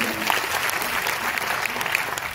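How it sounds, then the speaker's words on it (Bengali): An audience at a training seminar breaks into sustained, loud clapping, dense and continuous from start to finish, filling the room. "একটা জোরে হাততালি এই 3টে জেনারেশন"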